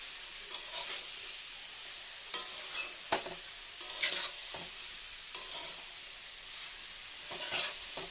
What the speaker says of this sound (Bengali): তো চলো মশলাটাকে কষিয়ে দেখো, আমার কিন্তু প্রায় মশলাটা কষানো হয়ে যাচ্ছে